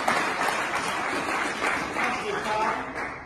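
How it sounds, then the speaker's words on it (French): A crowd at an M23 rally claps and cheers with a steady, dense roar of applause while a voice carries over it. "Acclamez encore très fort."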